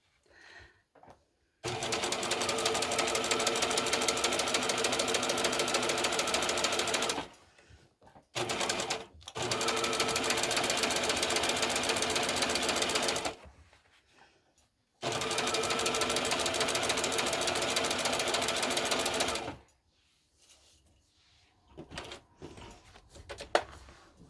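A sewing machine stitches a handmade bag in three long, steady runs of rapid, even stitching, each several seconds, separated by short pauses with faint handling noises; close and clear with no talking.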